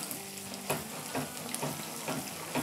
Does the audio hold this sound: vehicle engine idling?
no